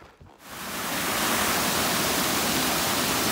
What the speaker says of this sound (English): So these are waterfalls